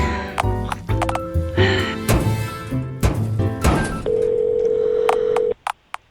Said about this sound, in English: Bang really hard on the phone box and hope it works?